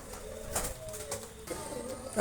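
Teddy pigeons kept for sale coo softly in short low murmurs, close by over a light background hiss.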